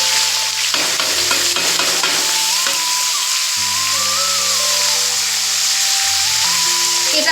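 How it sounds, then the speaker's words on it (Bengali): Spices and fish oil crackle and sizzle steadily in a hot wok, a loud continuous frying hiss with a wavering tonal whine running underneath throughout. "এই সব উপকরণ দিয়ে আমি মাছের তেলটা ভাজবো"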